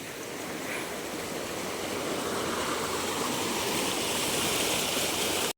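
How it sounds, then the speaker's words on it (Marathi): Floodwater rushes through flooded rice fields beside a wall, a steady, loud broadband roar of flowing water like a stream, continuous and unbroken from start to end with no talk. "तर बघा किती पाणी भरलं आहे इथं."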